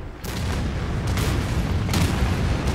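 Heavy bomb blast in the futuristic city-building game Anno 2205, a dense, loud rumbling roar that swells early and stays sustained, with a couple of sharper bursts layered in.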